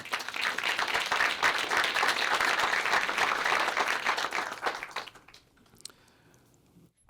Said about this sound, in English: So everybody just give a hand clap for the Brotherhood.